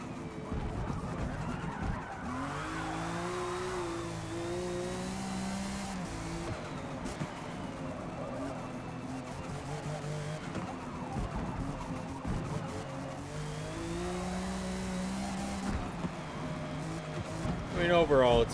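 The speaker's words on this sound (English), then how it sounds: "Those turbos, though." A turbocharged car in Forza Motorsport revs and drives with rising and falling engine tones and some tire squeal, while a person talks over much of the sound.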